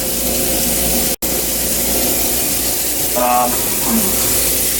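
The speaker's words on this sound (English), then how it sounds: "So like to put the panel down in here, get the water going nice." Hot water gushes steadily from a tap into a basin used to soak Volkswagen interior panels, a loud continuous rush with a brief break and some faint sounds over the flow.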